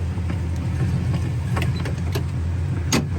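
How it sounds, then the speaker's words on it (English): A 1966 Chevelle SS convertible idles at around 600 to 700 RPM, a steady, close low rumble with a few light mechanical clicks and ticks on top. "It's idling, Dalton, about 600, 650, 700 RPM"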